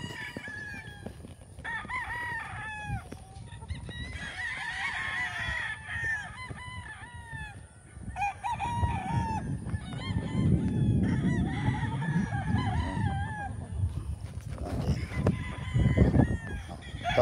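An araleta gamefowl rooster crows repeatedly on a farm among other fowl, with honking geese and clucking filling the yard; the calls are close and loud over a steady background of birds.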